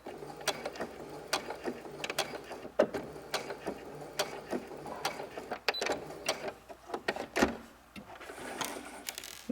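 A sewing machine back-stitches a seam on a simple tote bag, giving a soft, quick run of clicking mechanical ticks and small clatters, fairly quiet and close, with no talk.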